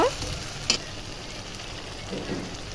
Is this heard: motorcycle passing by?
no